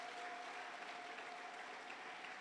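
Church congregation clapping in praise during an Amharic sermon by Pastor Muse Belayneh, a dense steady wash of applause from many hands filling the whole moment with no voices over it.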